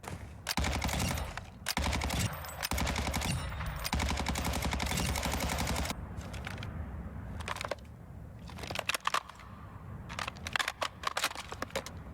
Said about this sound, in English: The Cronen Squall is a battle rifle brand new to the game